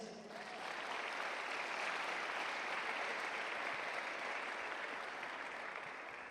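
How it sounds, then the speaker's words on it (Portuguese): A congregation at a church youth camp breaks into applause, clapping swelling quickly after a brief lull and then holding as a dense, even roar of many hands. "Você pode aplaudir a Jesus?"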